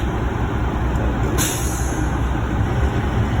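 A truck's air brakes release a sharp, brief hiss of air during a CDL brake test, cutting in over a steady, loud engine idle rumble.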